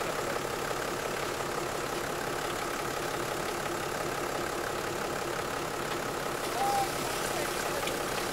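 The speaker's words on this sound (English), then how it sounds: "The engine drives the shower." A small engine runs steadily at a camp by a riverbed, powering a shower, a constant even drone throughout with no notable change in pitch or level.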